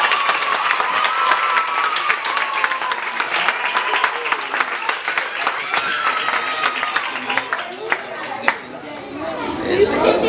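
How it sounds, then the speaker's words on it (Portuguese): A gathered church congregation claps loudly and sharply, with individual hand claps standing out over lively crowd chatter and cheering voices mixing in throughout. "uma salva de palmas"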